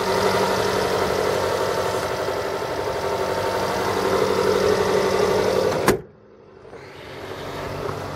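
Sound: 2014 Jeep Cherokee 2.4 liter engine running

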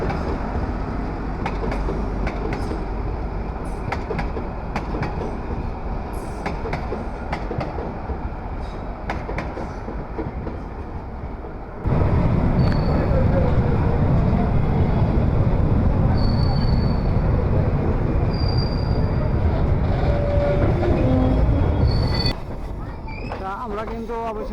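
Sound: meter gauge train running

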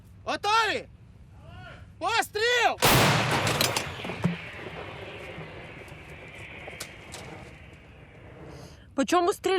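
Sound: artillery gunfire

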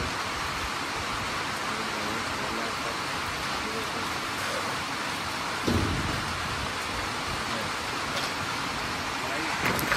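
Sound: heavy rain with thunder

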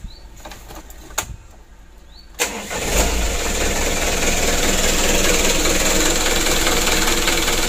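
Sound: tour bus engine being started

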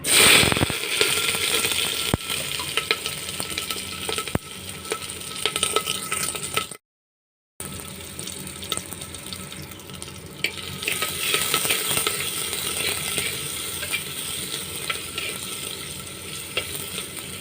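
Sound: onions and chilies frying in oil

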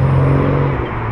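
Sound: Toyota Supra car driving past

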